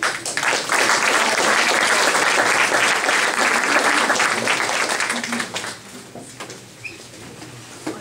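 A meeting audience applauds to welcome a guest speaker, a dense burst of clapping that holds strong for about five seconds and then thins out and fades to a few scattered claps.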